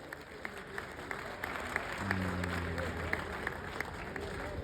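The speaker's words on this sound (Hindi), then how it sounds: "एक बार मैं चाहूंगा जोरदार सदन से तालियां" Audience applause fills a kavi sammelan poetry gathering in Ballia, a steady wash of many hands clapping at moderate volume, with voices faintly mixed in underneath.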